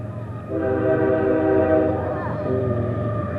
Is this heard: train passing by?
yes